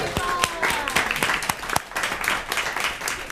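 Scattered, uneven clapping from a small audience at a city council meeting, distinct sharp claps near and far with a few voices and cheers mixed in.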